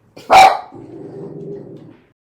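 A protective dog-sat pet named Janet lets out one loud, close bark followed by a lower sustained growl, set off by neighbors' construction noise.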